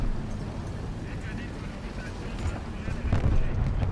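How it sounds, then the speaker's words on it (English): Tank engines rumble through a War Thunder duel between an M36 tank destroyer and a Comet II, a steady low drone swelling louder near the end with booming bursts, under faint talk. "Listen to the engine noises."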